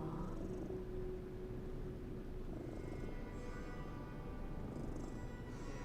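A cat in Lies of P purrs steadily while being petted, a low continuous rumbling drone that stays at an even level throughout, with faint background game ambience.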